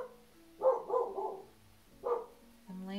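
A dog barks, likely at a squirrel in the morning, in a few sharp barks close by: a quick double bark, a pause, then another bark and a drawn-out whine-like tone.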